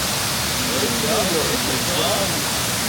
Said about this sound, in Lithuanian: Čia tas antrasis krioklys.